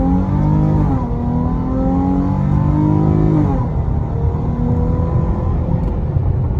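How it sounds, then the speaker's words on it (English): A 2019 Dodge Charger GT engine revs hard and climbs in pitch as the tires spin on launch, drops briefly, then roars up again, loud and close throughout. "my tire spun a good amount"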